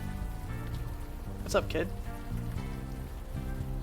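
Steady rain falls in the Unavowed video game, a constant wash of drops on a surface running throughout, with a voice briefly speaking over it.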